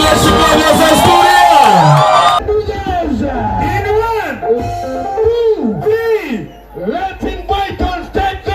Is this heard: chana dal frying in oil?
no